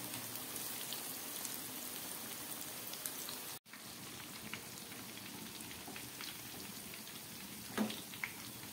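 Cauliflower cutlets sizzling in a pan over low-to-medium heat, a steady soft crackle of frying oil with scattered pops, faint and continuous throughout.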